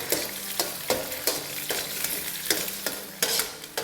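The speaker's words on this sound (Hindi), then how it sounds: "और इसमें अब हम 2 अंडे डालेंगे। और इसे अब हम मिक्स कर देंगे।" Two eggs are stirred in a hot oiled frying pan, with a steady sizzle punctuated by regular scraping strokes of the spatula, loud and close, with no voices.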